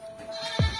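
A single goat lets out one short, fairly close bleat over a quiet outdoor background, brief and alone without speech.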